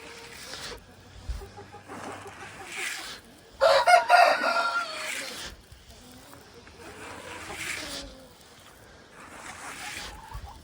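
Chickens out in the snow cluck softly and steadily, and a rooster crows loudly once near the middle, with quiet rustling around them.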